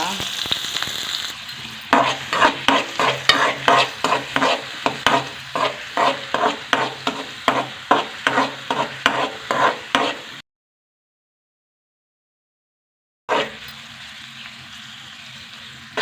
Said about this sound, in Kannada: ನೆಕ್ 2 ಚಮಚದ ಎಣ್ಣೆ ಪಾಡೊಂದುಲ್ಲೆ. ನೀರುಳ್ಳಿ ಪಾರ್ದು ಫ್ರೈ ಮಲ್ತುದ.